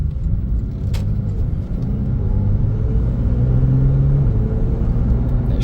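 A 2017 Porsche 911 Carrera 4S drives along steadily, heard from inside the cabin as a continuous low engine and road rumble with subtle changes as it shifts smoothly.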